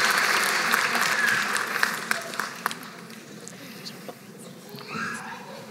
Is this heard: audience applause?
yes